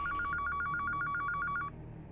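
Telephone ringing in a home, a rapid trilling electronic bell that repeats steadily for about a second and a half, then cuts off, leaving a low room hum.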